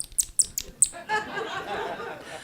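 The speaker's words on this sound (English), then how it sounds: "This is the sound of an angry rat." An angry rat: a few sharp, high-pitched squeaks in quick succession, followed by a softer, hissy rustling and faint chittering.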